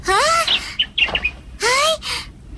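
A small bird chirps in a few bright, rising tweets, loud and close, separated by short pauses, with a brief burst of other sound between them.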